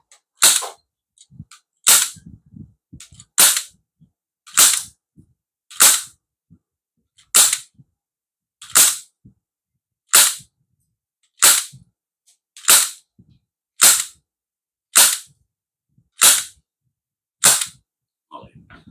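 An MK1 airsoft sniper rifle fires a dozen sharp, evenly spaced shots, each a crisp loud crack with a brief mechanical clack before it, close by and alone with only faint background between shots.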